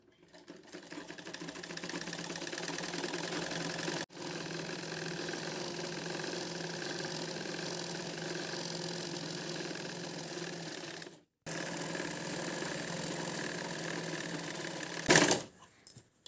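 A sewing machine stitches a girl's lehenga blouse in long continuous runs of fast, even whirring, broken by two brief stops and ending with some handling clatter.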